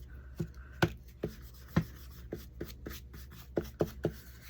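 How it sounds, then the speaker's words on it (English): Quiet, irregular scraping and tapping strokes against paper, a dozen or so brief rubs at a close distance with no talking. "now I'm coating it with just some clear wax on the paper"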